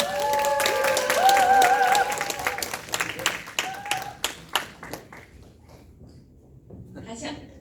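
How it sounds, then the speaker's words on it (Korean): Audience applause welcomes a guest speaker from Seoul at an Amway business presentation, dense clapping at first that thins into scattered claps and fades, with a voice heard during the clapping. "큰 박수로 모시겠습니다."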